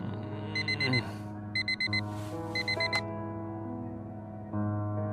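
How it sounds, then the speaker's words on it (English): An alarm clock in the video game Fragments of Him rings in three rapid bursts of bright beeping over a soft tonal music bed, followed by the music continuing alone. "Every day that alarm goes off"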